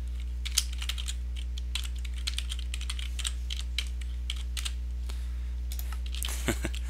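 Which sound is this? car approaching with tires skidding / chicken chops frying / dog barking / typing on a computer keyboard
typing on a computer keyboard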